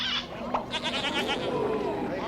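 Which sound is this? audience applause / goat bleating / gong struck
goat bleating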